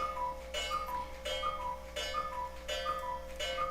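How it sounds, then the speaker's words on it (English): A cuckoo clock ticks steadily and close by, each tick a crisp, slightly tonal click in an even rhythm, with no other sounds around it. "who are really bothered by the sound of cuckoo clocks"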